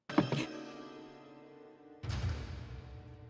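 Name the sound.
thud in a scene of the film Child's Play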